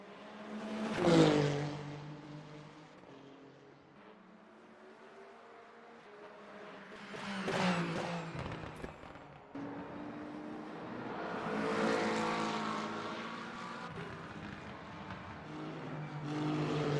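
A Ferrari race car in a WEC endurance race sweeps past the microphone several times, engine rising and falling as it approaches and recedes, moderately loud with nearby cars.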